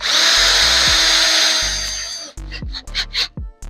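Power drill driving bolts into a wheeled workbench: a loud, close, steady whine for about two seconds, then several short trigger bursts with the motor spinning up and winding down, and no talk.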